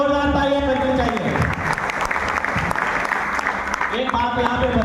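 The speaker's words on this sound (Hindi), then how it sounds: "हमारे यहाँ जो पहला प्रोडक्ट है इसके लिए एक जोरदार तालियां करनी चाहिए।" Strong audience clapping at a company product event, honoring its first product, sustained applause throughout with a voice speaking over it at the start and again at the end.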